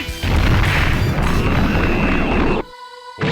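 A cannon shot explosion fills the space with a sustained, loud, roaring boom that cuts off abruptly into a brief ringing tail.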